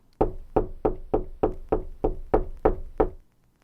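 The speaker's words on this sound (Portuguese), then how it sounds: "Bateu Shirley na porta à procura de trabalho." Someone knocks on the door of a large old two-storey house in a small town, giving nine firm, evenly spaced raps up close, followed by silence.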